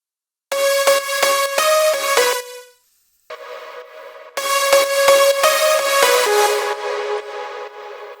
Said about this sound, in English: Without reverb and delay, it sounds something like this.